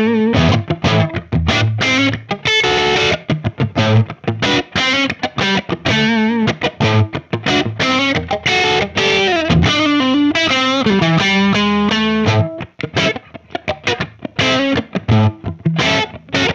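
Electric guitar played through a UAFX Lion 68 amp modeler pedal set to a rocking Marshall tone, loud distorted chords and riffs with sustained ringing notes and brief gaps, played alone.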